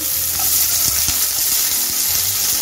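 Hot mustard oil sizzles steadily in a pan on a medium gas flame as a tempering of dried chilli and nigella seeds fries. A spoon stirs and scrapes with occasional soft knocks, and no one speaks.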